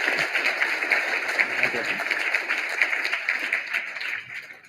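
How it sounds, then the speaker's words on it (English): An audience at a startup awards event applauds in a sustained, even patter of clapping with a crowd-like wash, tapering off toward the end. "Let's give them a round of applause because we're missing that."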